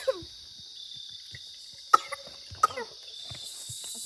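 A person coughs after drinking homemade sumac tea, with a few sharp separate coughs over a quiet outdoor background with a steady high insect-like hum.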